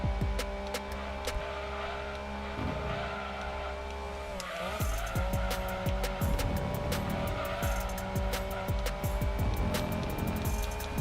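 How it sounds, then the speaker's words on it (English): Alfa Romeo 156 in Gran Turismo 2, its engine droning steadily and rising through gears, with sharp tire squeals and a rattly shift partway through, loud and continuous. "love the cute little engine sound though"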